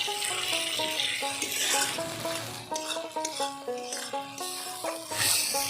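Mushroom curry being stir-fried in hot oil with potatoes in a pan, a continuous sizzle with steady scraping and stirring strokes, close and fairly loud, with a faint musical tone running underneath.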